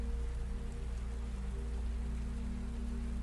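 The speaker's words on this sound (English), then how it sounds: "The rain falls." Rain falling on the waters of Bassenthwaite Lake in the Lake District, a soft, steady hiss of drops over a low constant hum, faint and even throughout.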